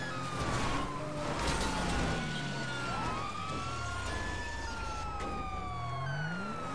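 Police car siren wailing in Grand Theft Auto V, a continuous rising and falling tone held loudly throughout over engine rumble and game traffic noise.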